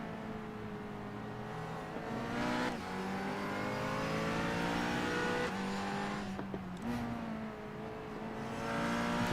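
GT4 race cars, including an Aston Martin, roar around Spa Francorchamps in a sim racing game, with steady loud engine drone, rising and falling revs and gear changes through corners, as several cars run close together.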